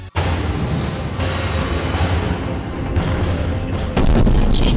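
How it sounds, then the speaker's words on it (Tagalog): A blast at a maternity clinic in Kyiv, Ukraine, caught from a car's dashcam: a sudden loud onset followed by a sustained, dense roar of rumbling noise that swells further near the end, with no voices. "Kita sa dashcam ang pagsabog sa maternity clinic na yan sa Kyiv, Ukraine."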